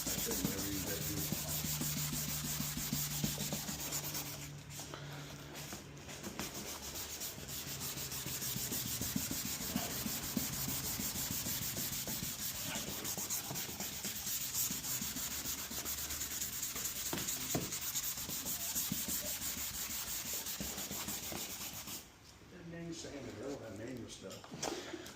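A sander working over the plastic lens of a 2018 Nissan Frontier headlight, a steady abrasive rubbing hiss running nearly the whole time with a short pause near the end, while people talk quietly underneath.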